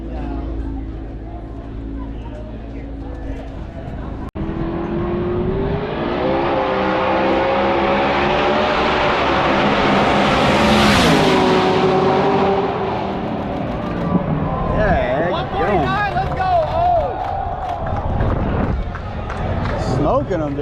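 A twin-turbo 427 cubic inch, 6,200 lb Cadillac Escalade drag racing at a Formula One track, its engine roaring loud and close as it accelerates hard through rising revs, with people talking over it.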